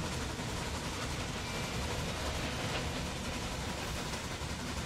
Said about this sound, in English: This looks like a cool view of the trains passing each other.